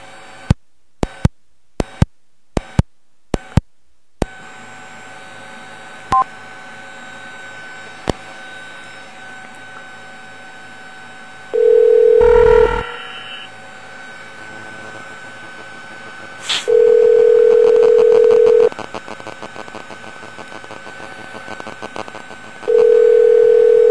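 Phone line sounds from calling back on a cell phone: a quick series of dialing clicks and beeps, then quiet, followed by loud steady tones repeating in sustained bursts, with faint talk.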